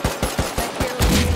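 Bursts of gunfire in the survival video game Rust, a quick series of about six loud, close shots in rapid rhythm, ending in a denser volley.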